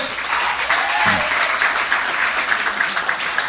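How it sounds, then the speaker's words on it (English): An audience at an outdoor UNC political rally in Tunapuna applauds, giving a dense, steady wash of clapping and some cheering that holds at full strength from start to finish. "Give her a round of applause tonight."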